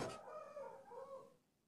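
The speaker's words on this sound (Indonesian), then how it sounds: "gue mau motong ayam yang berisik dari tadi" A rooster crows in a drawn-out, wavering call, close and fairly loud, fading at the end with no talking.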